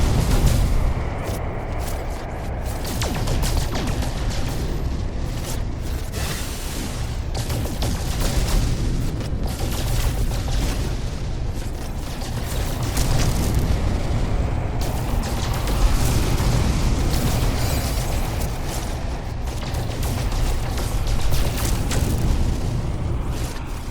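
Dense, continuous bursts of gunfire and booming blasts in the space video game No Man's Sky, a constant loud barrage of shots and explosions filling the whole stretch with no speech.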